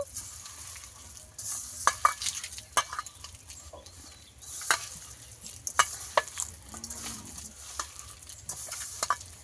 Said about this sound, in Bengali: এবার হাতের সাহায্যে ভালো করে চটকে চটকে আমি এটাকে মেখে নেব।